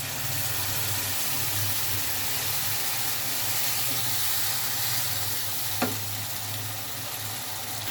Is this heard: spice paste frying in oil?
yes